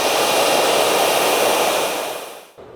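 A hair dryer blows steadily and loudly while styling hair in a professional blow-dry, a broad continuous roar that holds for over two seconds before tapering off and cutting out near the end.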